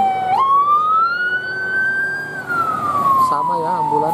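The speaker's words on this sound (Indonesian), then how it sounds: "Sama ya ambulan di mana-mana sirenenya." Ambulance siren on a busy mountain highway: a loud single wailing tone that rises, holds and slowly falls, then shifts into a faster warble near the end, close over road noise.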